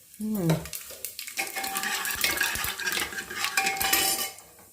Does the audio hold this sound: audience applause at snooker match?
no